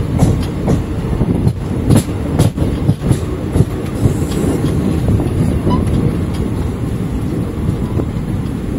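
Circar Express passenger train running on rails from Kakinada Port toward Puducherry, a steady loud rumble with repeated clickety-clack wheel beats over rail joints, heard from on board throughout.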